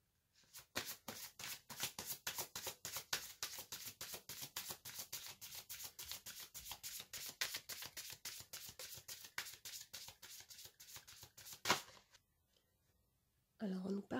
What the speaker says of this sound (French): Alors maintenant, je vais tirer 2 cartes d'oracle.